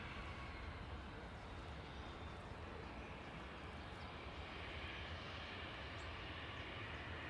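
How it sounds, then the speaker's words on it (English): An airliner just departed from runway 23L at Manchester Airport passes overhead, giving a dense, continuous low engine rumble at a steady, fairly quiet level with no talk. "The first 2-3 left departure coming over"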